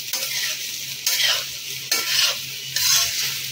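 Fried rice being stirred with salt in a pan, a steady close sizzle broken by three or four sweeping scrapes of the spoon, each a loud rush that fades back, with no voices.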